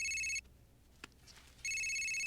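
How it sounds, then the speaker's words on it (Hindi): A phone rings with an incoming call: a loud, bright electronic ringtone plays, breaks off for about a second of near-quiet with a faint click, then resumes ringing. "पापा का फोन आया, बात करो"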